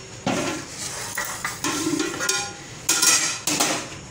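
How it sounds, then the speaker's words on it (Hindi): Chana dal gosht is served into a dish with a series of distinct metal clinks and scrapes of a spoon against the pot and plate, arriving in uneven bursts, close and fairly loud. "चलिए अब मैं इसको डिश आउट करती हूँ आपको।"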